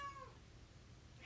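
An orange cat named Jam gives a faint, brief meow near the start, followed by quiet room tone with a soft rise at the very end.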